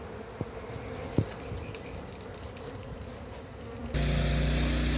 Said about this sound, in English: Bees are pointing the abdomen in the air, head down, wings trembling, releasing pheromone from the abdomen.